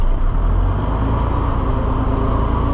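Steady, loud diesel rumble from an idling Ford L9000 semi truck with a Big Cam Cummins 855 engine as it builds air pressure, a continuous low drone with no pauses or talk.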